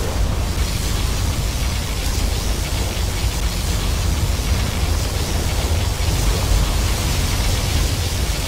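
A particle cannon blast in the real-time strategy game Command & Conquer Generals Zero Hour: a loud, dense, steady roar of broadband noise, like a sustained energy beam or eruption, holding unbroken for about eight seconds with no talk.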